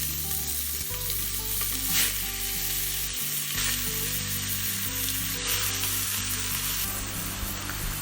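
Mutton pieces hit hot oil in a cooker for a Tamil Nadu village-style mutton chukka, giving a loud, steady, continuous sizzle and frying hiss that holds through the whole stretch with faint stirring underneath.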